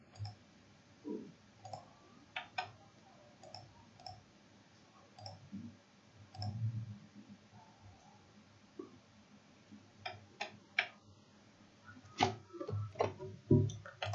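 Computer mouse clicks sound as scattered sharp ticks at uneven intervals while someone navigates a satellite data download portal, soft and close over a faint hiss with no talk.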